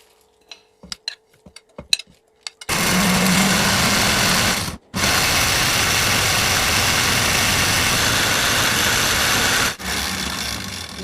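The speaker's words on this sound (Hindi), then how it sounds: "तो 2-3 दफ़ा करके मैं इसको ग्राइंड कर लूँगी।" A small electric grinder grinds chaat masala spices at home, after a few light clicks and taps. It runs as a loud, steady whirring roar, pauses briefly once, then runs again before cutting down near the end.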